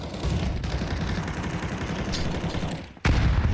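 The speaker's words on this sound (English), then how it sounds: "Oh man, that's the nade." A grenade explosion in Counter-Strike during a PGL Masters Bucharest 2025 match, heard as a sustained loud burst of blast noise, then a brief drop and a second sharp boom near the end.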